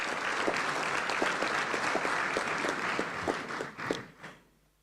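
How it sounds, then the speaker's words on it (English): A conference audience at an African inter-parliamentary gathering on family applauds a pastor, with dense, steady clapping that holds evenly before tapering off and fading out near the end. "shall we give the pastor a round of applause instead of an amen?"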